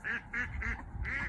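Ducks quack close by in a quick series of four or five nasal calls with short gaps between them, clear and alone.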